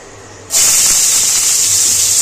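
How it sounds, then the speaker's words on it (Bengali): Chopped garlic and onion dropped into hot oil for a restaurant-style chicken manchow soup: a sudden loud sizzle bursts in and holds as a steady, close, bright hiss. "তেলের মধ্যে আগে থেকে একটুখানি রসুন কুচিয়ে রেখেছে আর পেঁয়াজ কুচিয়ে রেখেছে, সেটাই দিয়ে দেবে তেলের মধ্যে"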